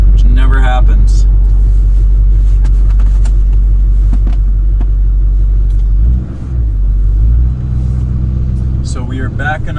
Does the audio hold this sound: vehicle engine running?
yes